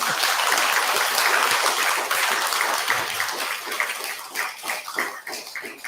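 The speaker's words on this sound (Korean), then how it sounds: "제가 박수 치라고 소리를 안 했는데도 박수가 나오는 거 보니까" Audience applause fills a Buddhist temple during a Sunday dharma service, dense steady clapping that gradually thins into scattered, looser claps toward the end, with no talking.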